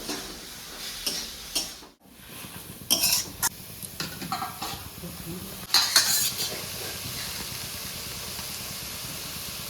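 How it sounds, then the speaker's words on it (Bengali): Radish curry (mulor ghonto) being stirred and fried with ghee in a pan, a low steady sizzle under intermittent scraping and clinking of a spoon against the pan, with a few brief louder stirs. "একটু ঘি ছড়িয়ে দেবো। এবার আমি ভালো করে কষাবো।"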